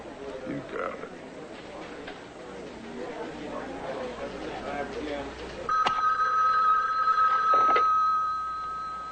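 In a busy newsroom, a telephone rings out clearly over background chatter and murmuring voices, a steady electronic trill lasting a few seconds before fading.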